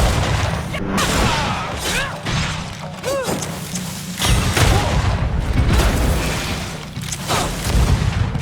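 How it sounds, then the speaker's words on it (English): A grenade explodes in the fantasy action game Greedfall, heavy booms and crashing bursts amid ongoing combat noise, loud and close. "Watch out! Grenade!"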